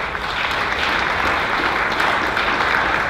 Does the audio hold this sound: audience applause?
yes